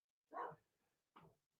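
A dog barks twice in short, sharp bursts at moderate distance, separated by a brief pause with only a faint trailing yip after.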